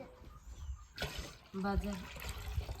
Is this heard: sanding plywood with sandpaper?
no